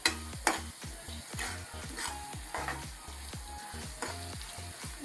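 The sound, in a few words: mixing ginger garlic paste frying in a pan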